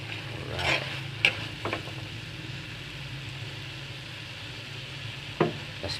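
Soft, steady sizzling of chicken intestines frying in a pan, with a few clinks and scrapes of a utensil stirring.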